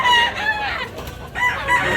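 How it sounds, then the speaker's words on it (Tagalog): Chickens and roosters at a poultry market in Tabunok, Cebu, clucking loudly and steadily, with high crows rising out of the flock in two close bursts. "Dami pang manok na dumating mga idol"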